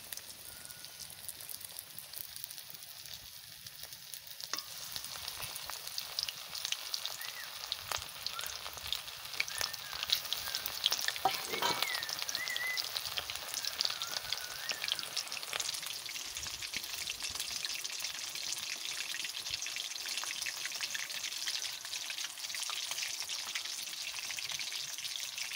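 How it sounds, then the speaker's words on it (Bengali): Pieces of food sizzle and crackle steadily in hot oil for the whole stretch, a dense, loud frying hiss with small pops and no talking. "তেলে দিয়ে দিচ্ছি। তেল গরম হয়ে গেছে।"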